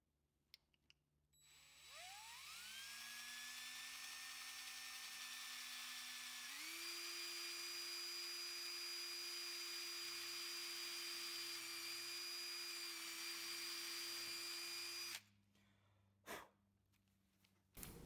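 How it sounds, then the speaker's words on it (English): A power drill drilling a pilot hole whines steadily for about thirteen seconds, its pitch climbing as it bites in, then stops, followed by a few brief knocks. "Drill a pilot hole."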